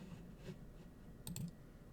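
Quiet, close keystrokes on a computer keyboard as a prompt is typed, a few soft scattered clicks with a brief quicker burst near the end, no voices.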